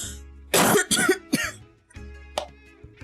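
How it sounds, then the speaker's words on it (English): A few close, sharp coughs and throat-clearing bursts from one person, bunched at the start and then a couple of lighter ones after a short pause. "Coughing just a little bit"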